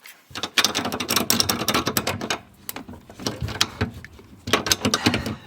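Rapid ratchet wrench clicking in bursts while a Momo race seat is mounted on Sparco sliders, close and busy with short pauses between runs of clicks.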